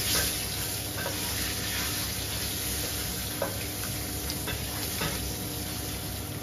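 Eggs sizzle steadily in a frying pan, a continuous loud crackle with occasional small scraping stirs, no talk.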